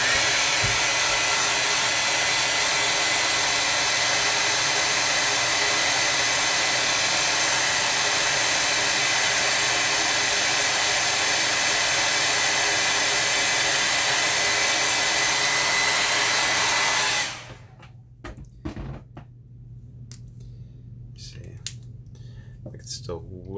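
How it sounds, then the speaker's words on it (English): A hair dryer blows loudly and steadily at close range to dry a wet watercolor painting, then cuts off abruptly, leaving faint clicks and tapping in a quiet room. "Okay, I'm going to have to dry this off."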